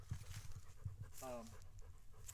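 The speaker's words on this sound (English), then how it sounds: "that's my horsepower dog" A farm dog that pulls a roller pants softly in short rhythmic breaths, faint and close, with someone talking briefly over it.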